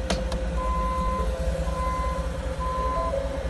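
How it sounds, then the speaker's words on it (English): Reversing alarm beeps from a truck backing up, heard through dashcam footage: three steady electronic tones at a regular rhythm, each about half a second long, over a constant low engine rumble. "Going to put the vehicle in reverse."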